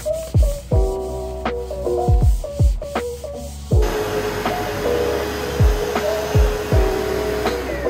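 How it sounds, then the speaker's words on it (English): A vacuum cleaner running steadily while cleaning a college dorm room, its continuous whirring drone shifting partway through, with repeated clacks and bumps from handling throughout and no talking. "then I'm gonna vacuum and maybe I'll sweep"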